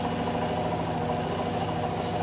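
A free energy perpetual generator motor runs with a steady, even electric hum layered with tonal harmonics, close and moderately quiet, with no voices over it.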